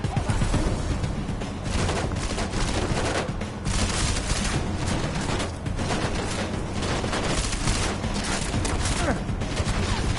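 Dense, sustained gunfire from a firefight in the Deus Ex: Mankind Divided video game, with loud overlapping shots and bursts running continuously through the whole stretch, mixed with talk and game noise.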